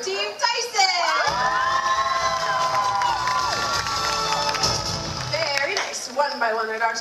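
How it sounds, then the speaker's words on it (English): Audience at a Universal Studios animal show in California cheers, shouts and whoops loudly for a performing dog, with children's voices prominent in the sustained roar that builds, holds for several seconds, then fades. "Let's hear a practice cheer for Team Tyson."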